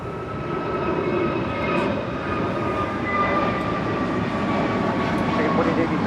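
An American Airlines A321neo departs LAX for Miami, its jet roar a steady loud rumble with a whining tonal hum across the full stretch, while voices talk over it.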